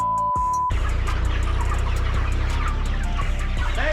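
Chickens clucking in a group on a poultry setting, a dense continuous layer of hen calls at close range, preceded by a brief burst of other noise at the start.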